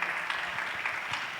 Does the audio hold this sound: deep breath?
no